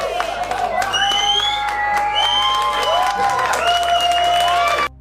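Audience at a comedy show clapping and cheering steadily for about five seconds, with scattered whoops and shouts rising above the applause, which cuts off abruptly near the end.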